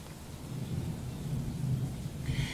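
Low, steady thunder rumble with rain hiss, a continuous distant roll lasting throughout with no voices present.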